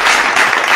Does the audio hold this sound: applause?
yes